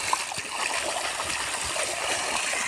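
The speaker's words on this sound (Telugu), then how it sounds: "నీళ్ళతో ఆడుతున్నాడు అక్షిత్ రెడ్డి." Water splashing and trickling steadily as a child named Akshith plays with it outdoors near ant hills, a continuous wet babble with small splatters close by.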